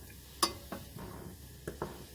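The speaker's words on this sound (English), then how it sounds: "You can hear it sizzling." Garlic, carrots, celery and onions fry quietly in a pan, with a soft low sizzle under a few sharp scraping stirs and utensil clicks against the pan.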